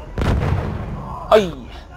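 Heavy tank cannon fire in the video game Battlefield 1 on a desert map: a loud rumbling boom early on, then a sharper blast with a ringing tail about a second later, with voices talking over the battle.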